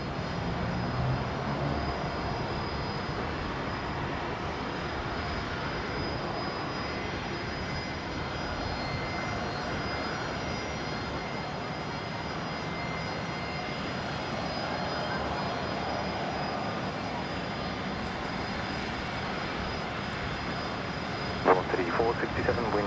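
A plane landing at Brisbane Airport on runway 19 left gives a steady, broad engine roar that holds at an even level throughout. A few faint sharp ticks come near the end.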